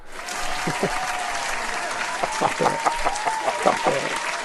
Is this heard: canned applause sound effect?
yes